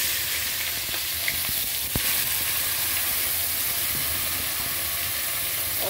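Ginger and green chili tempering with cumin in hot oil give a steady, dense sizzle and crackle that fills the whole stretch at an even loudness, with a few sharper pops and no talking.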